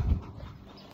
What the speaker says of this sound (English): Look, my doggy.